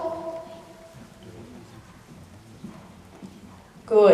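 Horse hooves clip-clop steadily at a moderate volume during a riding lesson at a riding clinic, with a louder burst of noise at the very end.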